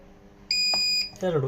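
A V-Guard lithium inverter emits a sustained high electronic beep lasting about half a second while its front switch is held, followed by a voice speaking nearby.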